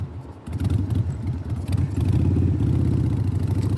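A motor chugs in a steady, rapid idle after a brief rev at the start, sounding rough and nearby. The engine is cold and overdue for an oil change.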